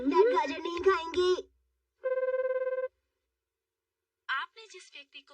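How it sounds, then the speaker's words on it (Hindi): Cartoon phone ringing during an unanswered call: a single electronic ring burst of pulsing tones sits between stretches of animated character speech before and after. "हैरी मेरा फोन क्यों नहीं उठा रहे?"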